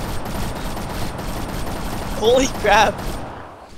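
Arma 3 gunfire crackles as a dense, steady fusillade of distant shots running the whole time, with excited voices shouting over it.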